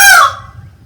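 A single loud clucking call from a hen, sharp at the start and trailing off quickly, with faint low background noise.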